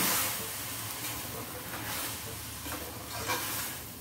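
Biryani masala gets stirred through rice in a pot, producing a continuous soft scraping and sizzling hiss with faint clinks of the spoon, fairly close and unbroken.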